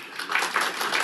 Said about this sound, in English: Might I request that the audience please hold their applause?